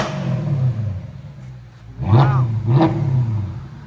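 Audi S4 with a 4.2L V8, X-pipe and Black Widow exhaust, blipping the throttle twice in sharp, loud revs over a steady idle rumble, with a brief exclamation spoken between.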